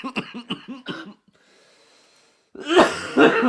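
Several sharp, close coughs in quick succession, a short quiet pause with faint breathing, then a loud, rough throat clearing.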